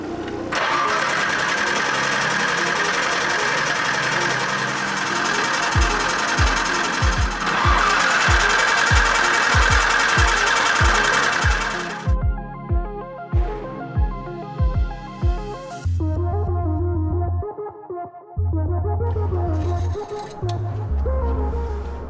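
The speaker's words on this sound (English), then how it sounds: "just let it crank with no spark" A Nissan R32 GT-R engine cranks over with no spark, a steady run of rhythmic starter-driven compression pulses, loud and close, that sputters and stops and restarts in short bursts toward the end.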